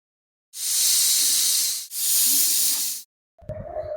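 A pressure cooker boiling arbi with salt and water lets off steam in two long, loud, harsh hisses back to back, close up, then stops with a faint clatter after a short silence.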